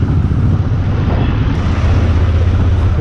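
A Royal Enfield Continental GT motorcycle riding along, its steady low engine drone mixed with constant wind rush, loud and continuous throughout.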